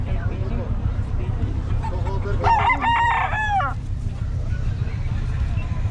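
At the Bocaue tiangge chicken market, a rooster lets out one clear crow amid clucking fowl, with people chattering and a steady background murmur throughout.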